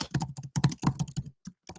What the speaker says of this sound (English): So this is going to test my typing live now.